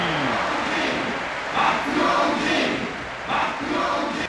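A video game crowd chants loudly in rhythmic bursts, a boxer's name repeated as a cheer swelling and fading several times over steady arena noise, in a Hajime no Ippo boxing game on PlayStation 2.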